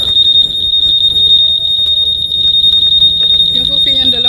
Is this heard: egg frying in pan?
no